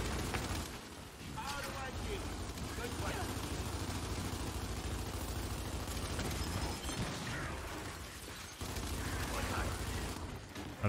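Rapid Lancer rifle fire from Gears 5 multiplayer rattles continuously through the whole stretch, dense and loud with a short break near the end, while a player talks over it.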